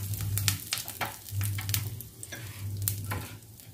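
Curry leaves and dried red chillies sautéing in a pan for a pappadam thoran, a close crackling sizzle with repeated sharp scraping stirs and a low hum pulsing underneath, no voices.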